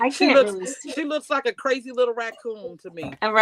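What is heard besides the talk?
No everyday noise stands out behind the speech.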